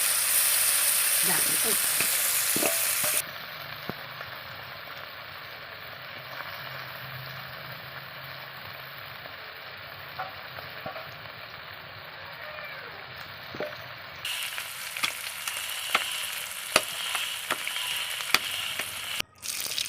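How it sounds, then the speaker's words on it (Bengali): Small fish frying in hot oil for a Bengali greens dish, a steady loud sizzle at the start that drops to a softer crackle and hiss, with brief stirring clicks and scrapes later. "তাতে ছোট মাছগুলো ভেজে নিতে হবে মাছগুলো ভালো করে একটু কড়া করে ভেজে তুলে রাখতে হবে"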